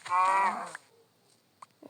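A single cow moo in a video game, long and tonal, followed by quiet with a couple of faint clicks.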